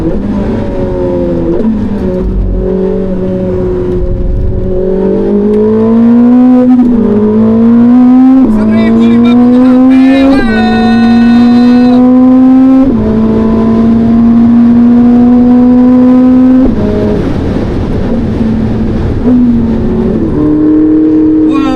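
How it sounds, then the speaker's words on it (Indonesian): A Ferrari 849 Testarossa is driven hard around a race track, its engine droning loud and close with repeated climbs in pitch through the gears and short dips between shifts, sustained for over twenty seconds. "Bisa geber Ferrari di track bareng pro driver itu luar biasa."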